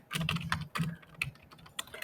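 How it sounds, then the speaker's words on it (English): Quick, uneven clicking of keys on a computer keyboard as someone types into a garden planner spreadsheet, close and fairly quiet, with no voices. "So you're basically just typing in here."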